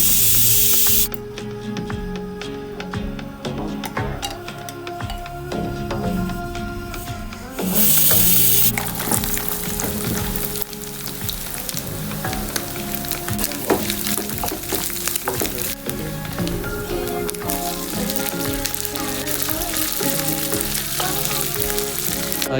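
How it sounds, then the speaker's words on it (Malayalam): Coconut pieces and shallots sauté in hot oil in a pan for a Kerala beef fry, giving a continuous loud sizzle and hiss with frequent scraping and clattering of a stirring utensil. "ഈ തേങ്ങക്കൊത്തും ചെറിയ ഉള്ളിയും കൂടെ ഉള്ളതൊന്ന് വഴണ്ട് വന്നിട്ടുണ്ട്"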